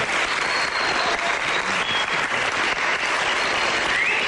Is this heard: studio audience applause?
yes